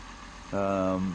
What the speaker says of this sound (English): He's just getting ready by starting up the tractor this morning.